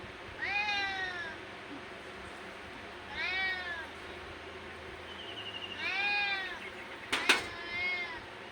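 A cat meows three times, each a clear, drawn-out call a few seconds apart, fairly close, with a brief clatter near the end.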